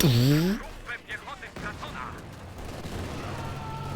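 Rocket artillery from a Werfer and gunfire sound in a strategy video game, a rising mechanical whine giving way to a series of sharp bursts and rumbling impacts beneath a commentator's voice.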